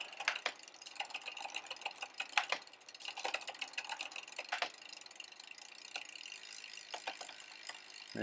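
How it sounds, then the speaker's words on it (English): A derailleur on a 2010 Specialized Roubaix Expert road bike clicks up through the gears during a tune-up on the stand. Quick, close ratcheting ticks of the freewheel run over the whirr of the drivetrain, with sharper clacks as each shift lands. "So then we proceed to adjust our derailleur. Go up the gears."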